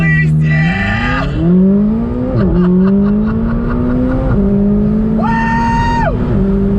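A McLaren 570S Spider launches hard under launch control, its engine note climbing through several rapid gear changes, loud and close, with a short whoop of excitement at the start.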